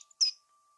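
A single bright bird chirp or squawk in The Book of Unwritten Tales 2 video game, a short sharp call standing alone against a faint steady tone.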